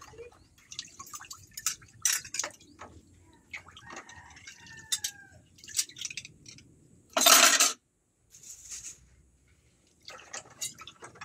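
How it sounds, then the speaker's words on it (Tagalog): Dishes being washed by hand without a sink, with scattered drips, clinks of plates and cutlery, and a brief burst of pouring water partway through, close and fairly quiet. "Ganyan lang maghugas ng plato."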